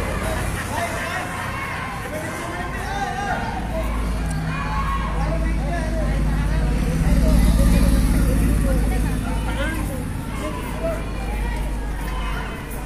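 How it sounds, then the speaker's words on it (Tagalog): Crowd shouting and hubbub at a political walk rally in Baguio, with a dense, steady wall of voices and traffic rumble that swells louder midway through. "Yung mga sigawan dito."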